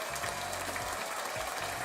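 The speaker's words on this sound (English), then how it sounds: "Let's give him a clap." Clapping from a studio audience on a golf talk show, a dense, even burst of hand claps lasting a couple of seconds at close range.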